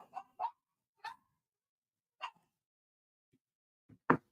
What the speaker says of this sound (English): They'll stop barking in a minute, hopefully.